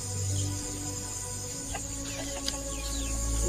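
Chickens cluck on a small backyard farm, their calls fairly faint over a steady background hum and hiss.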